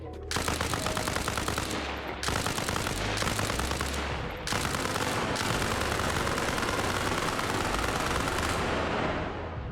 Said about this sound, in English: And the tracers popping off make nighttime fights look absolutely awesome.